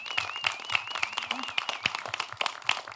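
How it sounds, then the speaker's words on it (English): Applause for panelists after a discussion on state abortion laws, fairly faint scattered claps with an uneven rhythm, under a background tone and some voice. "if we could give our panelists one more round of applause."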